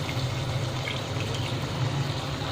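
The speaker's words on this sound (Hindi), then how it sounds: "अब इसके अंदर हम हाफ गिलास पानी ऐड कर देंगे" Half a glass of water pours into a pan of potato keema (spiced minced meat with potatoes), giving a steady, close splashing gush that runs unbroken for a few seconds with no talking.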